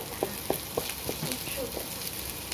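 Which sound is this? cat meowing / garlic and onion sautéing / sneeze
garlic and onion sautéing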